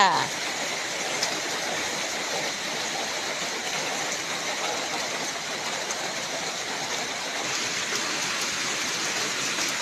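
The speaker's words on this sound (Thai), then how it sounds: "ฝนตกงามพี่น้อง ฝนตกงามจ้าคุณ" Steady rain falls in a constant, dense hiss that holds evenly throughout without pause.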